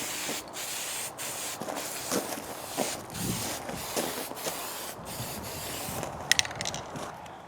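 Spray can applying a final coat of barbecue black paint to a Suzuki Bandit 1250 motorcycle part, short repeated hissing bursts with brief gaps, fairly close, alongside faint rubbing and a couple of light clicks near the end.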